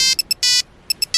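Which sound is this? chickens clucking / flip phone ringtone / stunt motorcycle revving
flip phone ringtone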